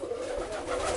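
A Modern pigeon, a small long-faced bird with a wide chest, coos steadily and close by for the whole moment, a low continuous throaty murmur with no other sounds.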